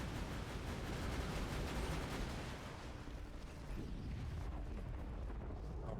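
A grenade blast in Borderlands 2 gives a loud, broad rumbling roar that fills the first few seconds, then thins into a softer, duller trailing rumble.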